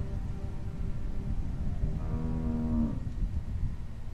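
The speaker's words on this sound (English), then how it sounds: "How do you like that cow, Clint?" A cow moos once in The Walking Dead video game, a drawn-out, fairly clear low call over a steady noisy background, with no one talking.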